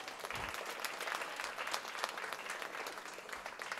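Audience applause at a charitable institution function, a steady wash of many hands clapping for nearly four seconds, moderately loud and fairly close, with no voices standing out.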